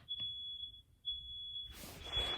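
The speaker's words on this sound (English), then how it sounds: "The smoke alarm is going off." A household smoke alarm sounds with a sustained high-pitched electronic tone, faint and distant, briefly dipping and resuming, while low rustling and shuffling noises rise near the end.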